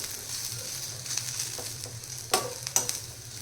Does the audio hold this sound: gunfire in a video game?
no